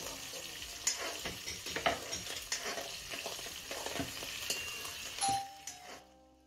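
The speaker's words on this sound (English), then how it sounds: "That was my doorbell going off while I was cooking." Chilies and cumin sizzle and crackle in a frying pan close by, with a faint electronic doorbell chime ringing out briefly near the end before the sound stops.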